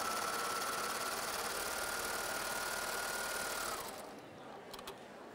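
A Babylock four-thread overlock serger at a sewing show runs steadily through two layers of fabric, a loud, fast, even whir that stops abruptly near the end, leaving a few faint clicks.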